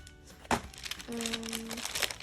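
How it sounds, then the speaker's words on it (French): Plastic packaging of a cross-stitch embroidery kit crinkles as it is unboxed indoors, a sharp rustle followed by a steadier stretch of crinkling close to the microphone, with a faint tonal hum partway through. "je vais déballer un peu tout"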